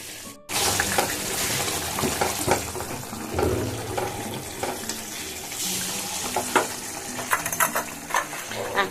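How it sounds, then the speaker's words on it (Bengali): Cauliflower curry bubbling in a pan with shahi garam masala added, giving a steady sizzle and simmer with scattered clinks of stirring throughout, close and fairly loud with no voices. "দেখুন খুব সুন্দর ফুটে গেছে আর একটু ফুটে গেলেই নামিয়ে দেব"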